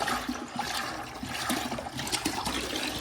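Coolant and distilled water poured from a gallon jug into the cooling system of a Jeep SRT, a steady gurgling, splashing liquid rush that runs continuously for a few seconds with no voices.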